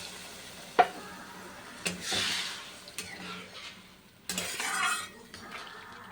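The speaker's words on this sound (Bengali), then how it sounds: "মশলাটা কষানো হয়ে গেছে, একটু হালকা জল দিয়ে দেবো" Water splashes into a pan of cooked-down spice paste for a Bengali fish curry, with a sharp clink, then hissing bursts as the liquid hits the hot pan, and quieter scraping and stirring between them.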